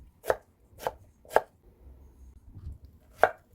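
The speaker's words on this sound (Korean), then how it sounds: "감자는 먹기 좋은 크기로 깍둑깍둑 썰어줄게요" Potatoes are cut into cubes on a cutting board, with four crisp knife chops at an uneven pace and one softer thud between them, close up with no voices.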